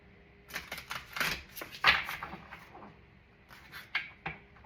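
Sacred Forest Oracle cards being shuffled by hand, a run of quick papery riffles and taps coming in bursts, close and fairly quiet, with no talking.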